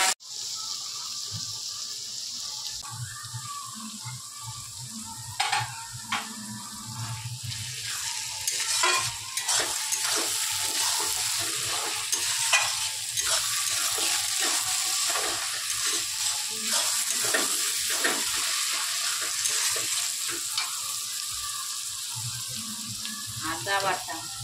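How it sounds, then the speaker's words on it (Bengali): Onions fry in a pan until they brown, sizzling steadily while a utensil stirs and scrapes at them in repeated strokes, with occasional water and kitchen clatter nearby. "পেঁয়াজটা লাল করে ভেজে নিই।"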